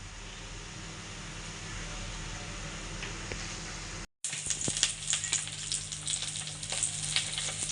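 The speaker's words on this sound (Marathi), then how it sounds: "इथं पकोडे बनवते मम्मी मस्त कढीसाठी पकोडे" Pakoras fry in hot oil for kadhi, a steady hiss over a low hum, then after a brief cut a brighter, louder sizzle with sharp crackles and pops close by.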